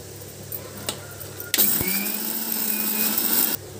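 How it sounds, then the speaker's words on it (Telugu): An electric kitchen mixer grinder whirring through dried red chillies and coriander seeds, starting abruptly after a few quiet knocks and holding a loud, steady high-pitched grinding drone for about two seconds before cutting off. "ఎండుమిర్చి, ధనియాలు వేసి మిక్సీ కొట్టేద్దామండి"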